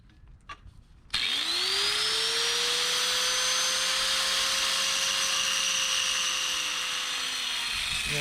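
A cut-off wheel spins up abruptly and grinds steadily through metal on a C5 Corvette, a loud, continuous high-pitched whine that holds for several seconds after a few faint knocks.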